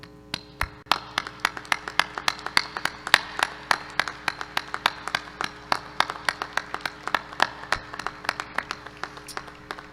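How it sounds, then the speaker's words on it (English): Applause at a university fall commencement ceremony in a large hall, a thin scattering of distinct claps with a steady, sparse rhythm rather than a dense roar. "remain standing as we give a round of applause to these individuals who have supported you"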